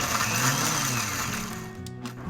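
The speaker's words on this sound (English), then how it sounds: "I'll just put them in the Vitamix." A Vitamix blender grinds acorns at high speed with a loud, dense, continuous mechanical roar whose pitch shifts slightly as the nuts break down, with no voices.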